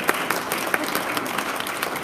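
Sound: audience round of applause

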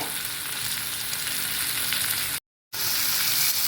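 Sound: okra, green chili and onion sautéing with chili powder

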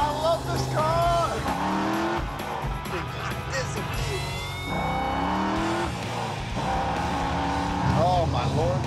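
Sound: Corvette doing a burnout, tires squealing

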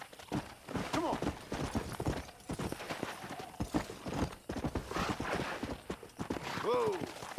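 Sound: horse galloping in video game Red Dead Redemption

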